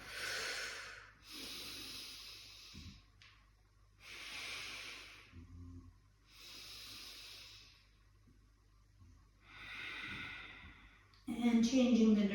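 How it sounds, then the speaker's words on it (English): Slow, audible breaths hiss in and out in long even cycles during a hip warm-up and flexibility meditation, close and fairly quiet with no talk over them. "Remember to breathe. The breath here is king."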